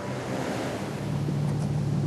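Steady ocean surf and gusting wind fill the scene at sea off the Caribbean, a continuous broad roar with low wind rumble buffeting the microphone, rising slightly toward the end, no voices.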